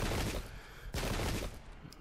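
Musket volleys crackle in a Pike and Shot battle set in the American Revolutionary War, a dense, rolling spatter of many shots with a sharper burst midway, continuous and fairly faint.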